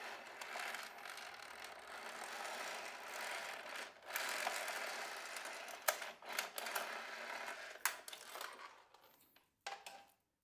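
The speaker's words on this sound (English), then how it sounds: "I'm going to pull it out from the sprocket side of the machine." A metal chain is pulled off the sprocket of a machine, giving a run of light metallic rattles and clinks at close range, with a few sharper clanks near the end before it falls quiet.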